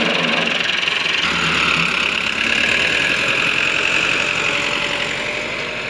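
Tractor engine running steadily while a plough is drawn through a farm field, a continuous rumbling drone that stays fairly loud and even throughout, with no talking.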